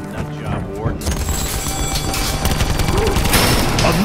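Gunfire in the Call of Duty Black Ops 4 zombies map Blood of the Dead, a loud dense clatter of shots and booms over game music, with voices talking through it.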